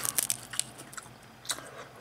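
Crispy fried squid snack with habanero seasoning from a GS25 convenience store crunches loudly in close bites, with several sharp crackling chews in quick bursts and quieter chewing between.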